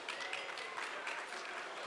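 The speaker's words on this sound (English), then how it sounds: "Give him a round of applause" An audience at a hospital culinary competition claps for a chef being introduced, a soft, distant patter of applause that holds steady throughout.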